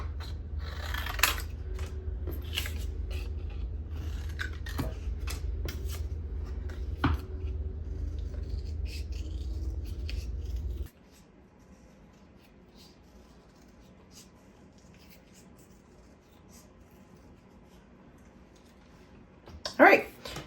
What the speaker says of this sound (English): So I cut out 6 of my little ornaments.